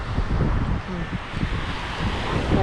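Amihan wind blowing by the sea, a steady rush of gusting air and surf with microphone buffeting throughout.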